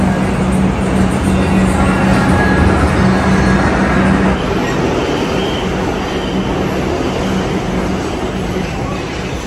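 A Kolkata metro train rolls along with a loud, steady rumble and hum that continues throughout, with no voices.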